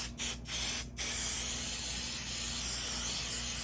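An aerosol spray hisses onto a small patchwork quilt, beginning with a few quick short bursts and then a sustained close spray, loud and steady, with no speech over it.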